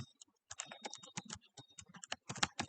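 Typing Python code on a computer keyboard: rapid, irregular bursts of close key clicks and clacks with short pauses between runs, no speech.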